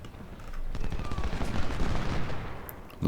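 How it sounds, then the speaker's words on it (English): Musket volley fire in the video game Ultimate General: Civil War, a rolling burst of many overlapping gunshots that swells into a dense crackling roar and holds for a couple of seconds before cutting off. "Another volley from Hood before the cannons get covered."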